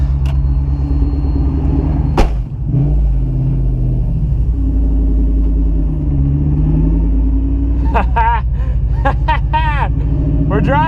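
V8 drift truck with custom 4-link suspension driving, its engine rumbling loudly and steadily close to the microphone, with brief sharp knocks and some squealing bursts near the end.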